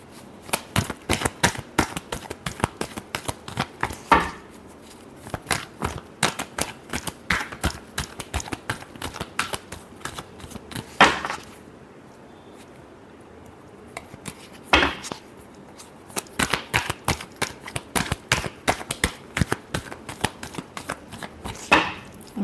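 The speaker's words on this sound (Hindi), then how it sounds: "last shuffle" Tarot cards are shuffled by hand for a Capricorn reading, steady rapid riffling and tapping in bursts with short pauses between, close and alone without talk.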